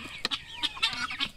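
Chickens cluck in close, busy bursts while being fed boiled green corn, the excited calls rising and falling in quick succession with no talk.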